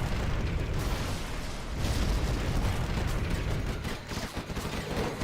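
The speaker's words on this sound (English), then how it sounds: "Archer barrage goes in." Artillery barrage in Command & Conquer: Generals Zero Hour, a dense rumbling wash of overlapping explosions and bursts, continuous and heavy over several seconds.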